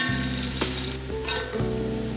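Onions frying and browning in oil in a pot for beef pulao, a steady close sizzle with faint stirring scrapes and no talk.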